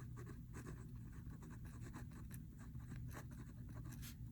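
Marker or chalk strokes on a board in a maths lesson on parallel and perpendicular lines, a steady run of short scratchy strokes close by over a constant room hum.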